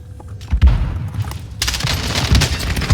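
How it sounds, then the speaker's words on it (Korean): A stun grenade goes off in Call of Duty: Warzone, a sharp blast followed by a loud, broad wash of ringing noise that holds steady to the end, with scattered gunfire-like thumps underneath. "기절 수류탄 오졌다, 지렸다"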